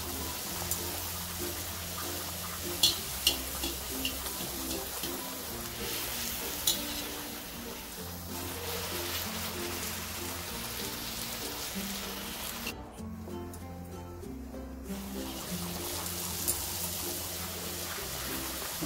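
Small puris deep-frying in hot oil over a low flame, a steady close sizzle and bubbling that keeps going throughout, with a few light clinks and no talking.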